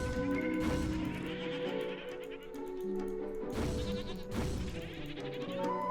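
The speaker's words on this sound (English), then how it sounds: "Alright, let's murder a goat." A goat bleats as it is attacked in the PC game Hero's Song, a few loud, wavering calls over a continuous backdrop of game music and effects.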